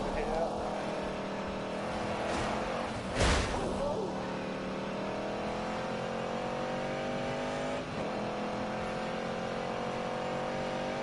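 In a driving game, a car drifts with its engine held at a steady, droning rev, one brief whooshing surge in the middle, while someone talks over it.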